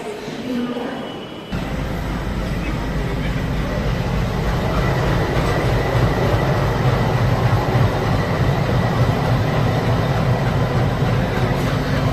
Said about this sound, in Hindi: तो अपने सामने आ चुकी है दानापुर आनंद विहार जनसाधारण एक्सप्रेस